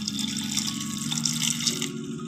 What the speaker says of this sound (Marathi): आता कुकरमध्ये घालायचे आहे पाणी